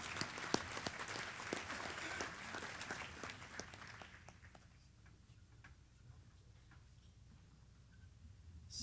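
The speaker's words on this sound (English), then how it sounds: "Let's give him a round of applause." An audience at a sports hall of fame banquet applauds with sharp scattered claps, loud at first and then thinning out into a few sparse, faint claps before quieting.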